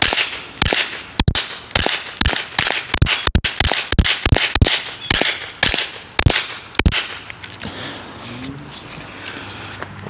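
A firearm shooting Federal ammunition fires a long series of sharp, loud shots at a fairly steady pace, about a dozen and a half cracks close by, then it stops and insects buzz faintly under the quiet.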